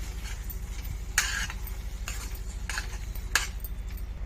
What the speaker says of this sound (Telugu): స్టవ్ సిమ్లో పెట్టి పప్పు కలిపేసుకోవాలండి